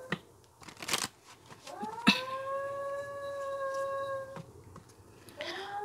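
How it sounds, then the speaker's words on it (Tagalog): A dog howls in a long, drawn-out wail lasting a couple of seconds, with a shorter rising howl at the end, preceded by sharp bursts of noise from a nearby room. "Maingay po yung aso."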